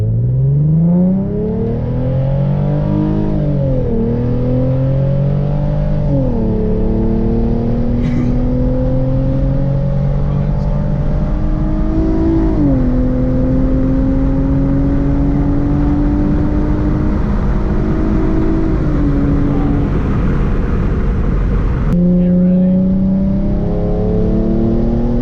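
A Hyundai Genesis Coupe 3.8 V6 with an AlphaSpeed tune revs and accelerates hard through several gears, its engine note climbing, dropping at each shift and climbing again, loud and close with no talking.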